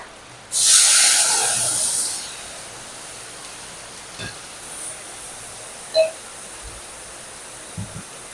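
Mustard paste hits a hot pan for an egg curry with a sudden loud hissing burst that fades after about a second and a half, followed by quiet background and a few small knocks.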